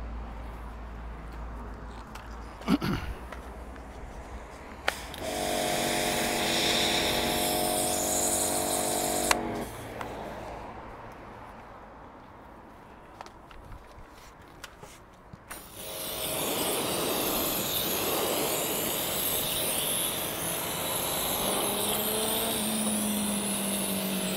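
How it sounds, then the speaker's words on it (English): A power washer on low pressure rinses sand off car paintwork, starting in short motor-driven hissing bursts, then settling into a longer steady loud spray with a humming pump tone underneath. "we've done our initial pass with the power washer on low power in order to get rid of the first lot of sand off there"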